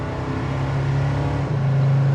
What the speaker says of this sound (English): Chirps the tires, going back up to second.